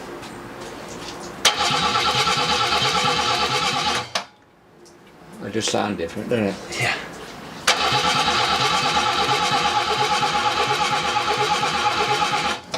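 An old barn-find BMW engine, untouched for about 30 years, cranks over in long steady stretches of rapid rhythmic churning, stopping for a brief pause before cranking resumes; voices talk during the quiet gap.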